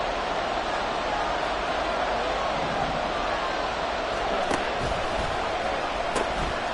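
Football stadium crowd before a big third down, a steady, dense roar of cheering from thousands of fans, loud and unbroken for several seconds, with a couple of sharp knocks near the end.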